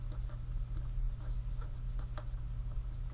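A pen or stylus scratching out a short word on a board or tablet, faint strokes under a steady low hum, with no voice.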